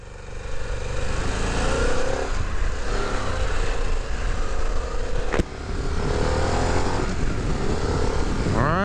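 A 2024 Harley-Davidson Pan America CVO motorcycle being ridden, its engine droning steadily and loudly under strong wind rush, with one sharp click partway through and a rising pitch toward the end.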